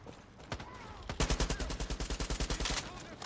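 Rapid automatic gunfire in a Far Cry 6 battle, a burst of about fifteen evenly spaced, loud shots after a couple of single cracks, with a player's voice briefly heard.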